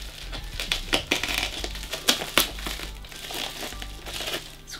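Plastic packaging on a Pullip doll parcel crinkles and crackles in sharp bursts as it is pulled and crushed open, close and fairly loud, with irregular rustling between the snaps.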